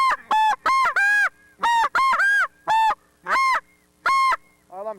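A hand-blown goose call imitating goose honking, sounding about nine sharp, loud honks in an uneven rhythm, some in quick pairs, close and alone, ending in a lower, softer call.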